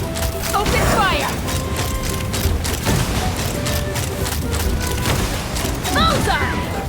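Weapons opening fire in Genshin Impact during an aerial sequence: a steady, loud barrage of clattering shots and mechanical bursts, with whooshing projectiles and chirping effects rising over it near the start and end.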